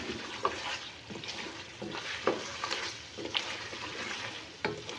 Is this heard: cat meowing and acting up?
no